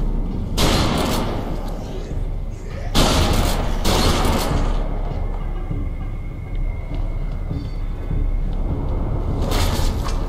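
Shotgun blasts in the video game Deadlight: three loud, sharp booming shots spaced several seconds apart, each cutting over a steady rumbling game background.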